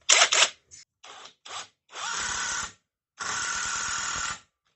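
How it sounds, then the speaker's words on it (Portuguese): A 5-in-1 multi-head cordless screwdriver with its impact head at maximum level, driving a screw into wood: several short bursts followed by two sustained, loud rattling impact runs of about a second each, close by with no talk. "o impacto desse cabeçote aqui é muito forte mesmo"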